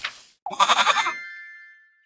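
A goat bleats once in the video game Little Goody Two Shoes: a short, wavering bleat right after a soft blip, ending in a ringing chime tone that fades out.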